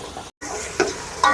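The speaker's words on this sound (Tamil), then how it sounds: "இனி தக்காளி பழம் சேர்க்கிறேன். தக்காளி பழம் வதங்கட்டும்." Tomatoes frying in a pan for a Jaffna prawn biryani, a close, steady sizzle with a couple of short stirring scrapes and a brief drop-out in the sound.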